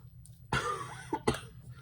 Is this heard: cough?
yes